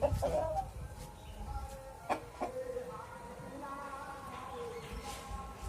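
Village chickens in the Sundarban region cluck and squawk in agitated bursts during a fight, with a short scuffle early on, mixed with a low background murmur.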